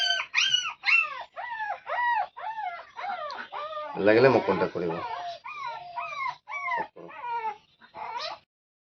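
Dogs at a pet shop in Bongaigaon whimper and yip in quick, repeated high-pitched bursts close by, while someone talks over the middle of the sequence.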